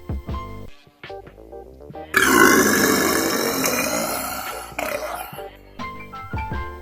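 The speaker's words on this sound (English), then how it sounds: "This burp is cathartic." A long, loud cathartic burp from a man chugging a drink, rising abruptly into a sustained, raspy roar that runs for several seconds with a brief break, set between quieter clattering and shuffling sounds before and after.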